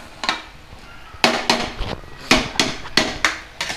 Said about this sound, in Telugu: ఆనియన్స్, టమాటా ముక్కలు అన్నీ ఇలా కలపాలండి